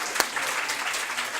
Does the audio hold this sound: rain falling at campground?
no